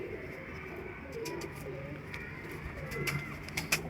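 Saharanpuri pigeons of an old bloodline coo softly and repeatedly nearby, with a few faint chirps and light rustling in the background.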